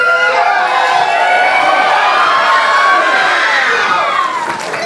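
A dense, loud wrestling crowd cheers and shouts steadily throughout, with whoops and voices rising over a constant roar of excitement.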